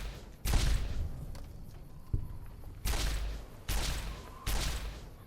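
Gunfire from the video game Fallout New Vegas: four loud, sharp shots fired at a slow, uneven pace, each with a booming low end and a short decay into quiet game ambience.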